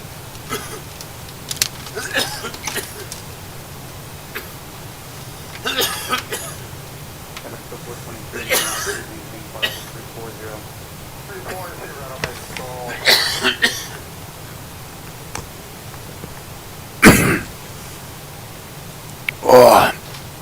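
A person coughs several times in scattered bursts over steady cockpit hum in Microsoft Flight Simulator, with one loud, harsh cough standing out near the end.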